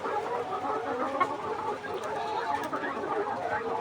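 A flock of 160-day-old layer hens on a farm clucks steadily in a busy, continuous chorus, with no voices standing out above it.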